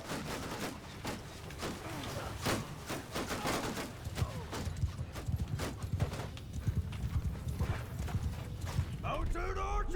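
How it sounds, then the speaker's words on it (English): Horses in the medieval battle game Mount & Blade Bannerlord pound along in a rapid, continuous clatter of hooves, mixed with battle noise, whinnies and shouting voices that stay close and loud. "Horse archers over there."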